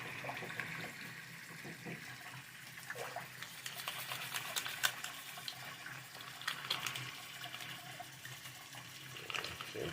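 A diecast model car is scrubbed with a toothbrush and water, giving soft, continuous wet brushing and splashing, faint and close, with small irregular taps and swishes throughout.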